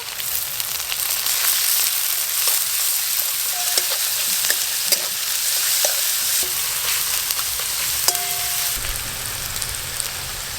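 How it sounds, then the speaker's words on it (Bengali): Onion, ginger and garlic paste fry in mustard oil, a loud, constant crackling hiss like rain, with occasional spatula taps and scrapes against the pan, close up and free of speech. "আদা রসুন পেঁয়াজ ভালো করে ভেজে নিয়েছি"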